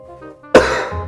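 A single sharp, loud cough bursts out after a moment of faint tonal hum, then tails off.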